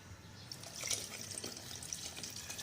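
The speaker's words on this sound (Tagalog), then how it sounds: "Sunod naman natin na ilagay ang pinaghugasan ng bigas." Rice washing water being poured into a pot for a sardine soup, a soft steady splashing and trickling stream that lasts the whole short moment, moderately quiet with no voices.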